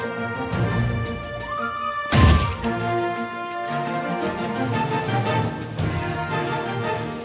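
Upbeat Wizard of Legend game music plays continuously with layered melodic instruments and a crashing hit near the start, moderately loud with no voices.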